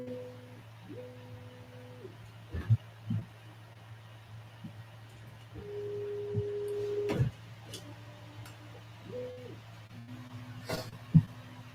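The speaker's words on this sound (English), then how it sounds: "it's going to do the vibration compensation for about 7 minutes" A Bambu Lab A1 3D printer runs its vibration compensation routine, giving steady motor hums that step between pitches in repeated patterns, broken by a few sharp clicks and knocks, with light talk in the room.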